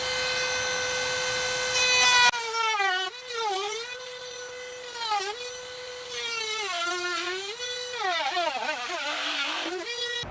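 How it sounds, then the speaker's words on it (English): A Dremel rotary tool cuts into a Honda Civic EF bumper with a high, whining spin that holds steady, then dips and rises in pitch as the cut loads and unloads, up close and loud, with no talking. "I'm going to go ahead and start cutting."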